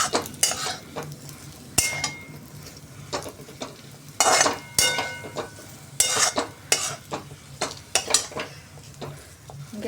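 Dates are stirred in ghee in a pan, with a spoon scraping and clinking against metal in uneven bursts over a soft sizzle, close by, with no voices.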